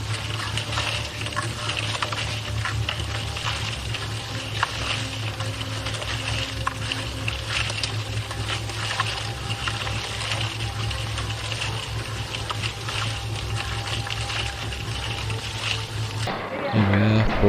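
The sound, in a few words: concrete mixer churning material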